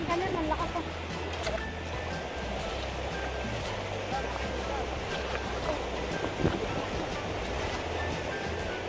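Strong ocean waves roll and wash in a steady, loud, broadband surge, with wind rumbling against the microphone throughout.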